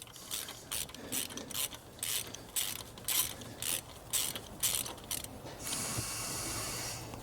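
A ratchet working a 13mm bolt on the front brake of a Mercedes-Benz S550, rapid bursts of clicking in repeated strokes, close and clear, ending in a steady hiss.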